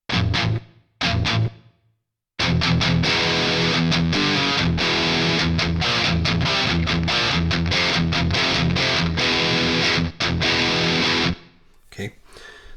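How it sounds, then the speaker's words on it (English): An Enya Inspire smart guitar played through a hard, heavy distortion setting with some reverb, loud saturated chords and riffs ringing out alone between brief silent gaps. "overall is a straight up hard heavy distortion"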